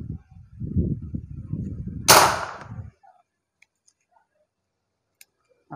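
A Predator Tactical Mini OD 38 airsoft gun on its stock hop-up fires a single sharp, loud shot during a speed test, after low mechanical rumbling, and then the sound drops into near silence.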